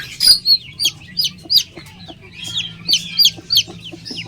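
An Ussikie hen clucks low and soft while her six chicks peep in quick, high, close bursts around her, the calls repeating steadily throughout.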